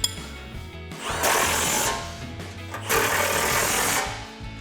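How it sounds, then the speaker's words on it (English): Impact wrench on an extension driving a nut on a Ford Bronco heavy-duty rear tire carrier, two loud sustained rattling bursts with a brief pause between them, close by and alone. "Impact extension 18 and a 19mm wrench to hold the nut."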